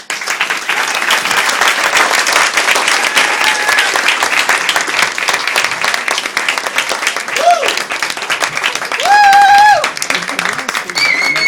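A crowd at an Out for Gillibrand campaign event applauds Senator Kirsten Gillibrand, a dense, sustained wash of clapping lasting many seconds, loud and even, with a few voices and whoops rising briefly near the end.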